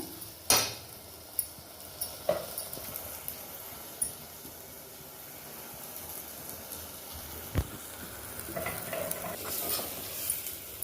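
Masala being stir-fried in oil for a Tirunelveli-style fish curry, soft sizzling under occasional spoon knocks and scrapes against the pan, quiet and close, with a few sharper taps scattered throughout.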